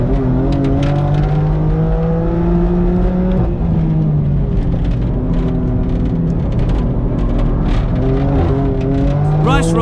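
A Manthey Racing Porsche GT3 RS race car engine howls at high revs, loud and sustained with pitch shifts through gear changes, under a commentator's voice.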